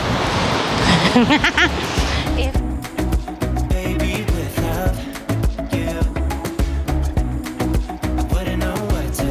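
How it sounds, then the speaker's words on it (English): Ocean waves break on the rocky coast at Porto Covo, Portugal: a loud rushing surge at the start, then a steady wash under frequent close clicks and knocks. "Watching the waves."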